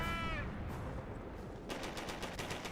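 An MG42 machine gun fires in Company of Heroes, a rapid burst of evenly spaced shots hammering out near the end over a noisy battlefield backdrop.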